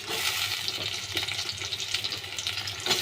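Potatoes drop into onions already fried red-brown in a pan, raising a steady, dense hiss of sizzling and bubbling that stays close and continuous throughout.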